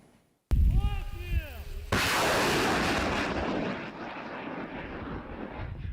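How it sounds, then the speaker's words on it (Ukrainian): A sudden, very loud blast of rockets from an improvised mini multiple rocket launcher, a sharp whooshing roar with a rising whine, then a sustained rumbling roar as the rockets streak away and fade. "Цей постріл зробили наші бійці за 20 кілометрів від позиції ворога."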